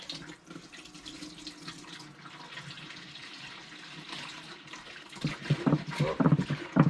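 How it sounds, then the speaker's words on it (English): Thick, syrupy butterfly bait mixture pours into a pot sitting on a hot plate, a continuous wet gurgling stream that thickens and grows louder near the end, with nobody talking. "we're going to pour all this yummy goodness into here."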